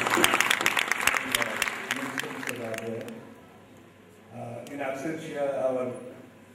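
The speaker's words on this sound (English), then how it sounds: "Big big round of applause." An audience in a packed auditorium at a dance competition in Mauritius bursts into loud, crackling applause for about three seconds, then someone speaks over a microphone as the clapping dies away.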